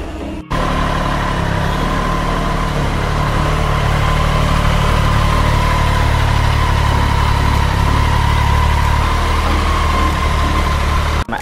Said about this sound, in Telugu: ఒకసారి ఇంజన్ రన్ చేసి ఇక్కడ టాప్అప్ చేసుకోవడమే.